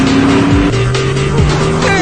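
A car driving fast with its engine roaring loudly and steadily, the pitch shifting as it changes gear, close and continuous with no voices over it.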